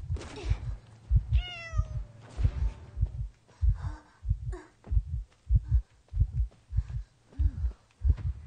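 Cats meowing in the video game Identity V: one rising, wavering meow stands out near the start, set over a loud, steady, throbbing heartbeat-like pulse that runs through the whole stretch.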